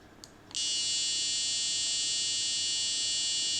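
A loud electronic buzzer on a school safety-gate electronics project switches on abruptly after a faint click and holds a steady, shrill continuous tone.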